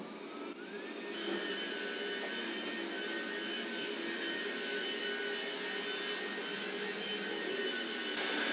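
A Roborock S5 Max robot vacuum starts a cleaning run indoors, giving a steady, close, continuous whir and hum with faint brushing and rubbing underneath, no talking.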